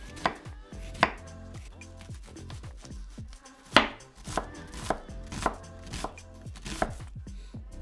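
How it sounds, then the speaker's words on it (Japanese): Knife finely chopping half an onion on a board, a steady run of close, crisp chops with a few louder strikes, no voices. "玉ねぎ1/2分の1個はみじん切りに、"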